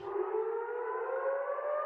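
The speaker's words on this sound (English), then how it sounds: "warning sirens echoing through Bethlehem" Warning siren wailing across Bethlehem in the West Bank, one steady sustained tone that holds loud and unbroken, echoing from a distance with no voices.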